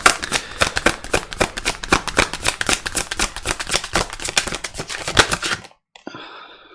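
Rapid riffle of shuffling tarot cards, a long run of crisp snapping flicks close by, ending abruptly with a brief soft rustle.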